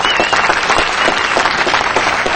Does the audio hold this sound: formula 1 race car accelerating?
no